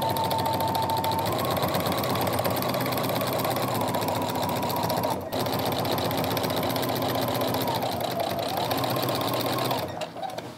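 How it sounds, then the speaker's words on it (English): A home sewing machine with a walking foot stitches a quilt in straight and wavy lines, humming and whirring loudly and continuously at close range, then stopping abruptly near the end. "I'm gonna go ahead and secure my stitches by sewing 2 back and 2 forward"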